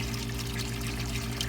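Water pours steadily into a 170-gallon aquarium as it fills, a constant hissing, splashing flow with a low steady hum beneath it, without pause for the whole moment.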